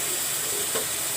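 Water hits a hot pan of vegetables, giving a continuous loud steamy hiss and sizzle throughout.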